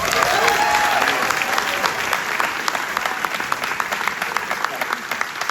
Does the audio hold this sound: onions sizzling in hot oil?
no